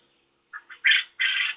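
Pet therapy birds give a short run of squawking calls, two small chirps followed by two louder, harsher squawks, close and clear with no voices.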